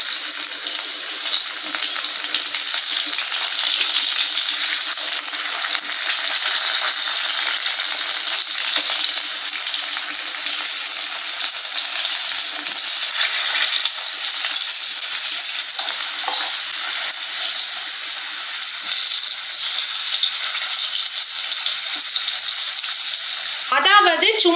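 Potato and egg pieces fry in hot oil, a loud continuous close sizzle that holds steady throughout, with a brief clatter near the end.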